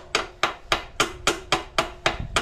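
Steady metal hammering on a rusty old tank, about eight sharp ringing strikes at an even pace, close and loud with a metallic resonance after each blow.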